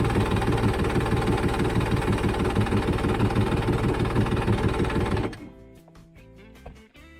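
Jetski engine with a suspected carburettor issue running after the choke is used, a rough, loud idle with fast uneven knocking pulses for about five seconds before it cuts out, leaving quiet clicks and clatter.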